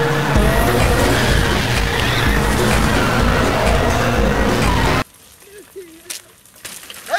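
A car drifting produces a loud, dense roar of engine and skidding tires for about five seconds, then cuts off abruptly to quieter background with a brief voice.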